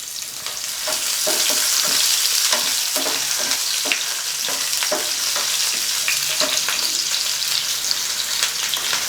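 Six or seven small shallots, finely chopped, sizzle steadily in hot oil in a pan for mutton fry, with repeated scraping clicks of a spoon stirring them throughout; close and continuous, no voices.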